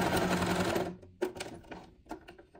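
A sewing machine runs a short burst stitching lining fabric onto a fabric bookmark, a bright close whir that cuts off, then soft handling knocks and light clicks.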